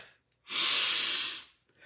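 One long, sharp sniff drawn in through the nose with a cotton swab inserted in the nostril, a breathy hiss lasting about a second, with quiet before and after.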